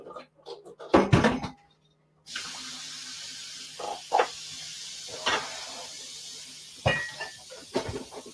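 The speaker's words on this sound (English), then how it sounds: "Pouring water." Water is poured, a steady soft hiss lasting several seconds after a brief silence, with a few clunks and knocks of a cup or container throughout.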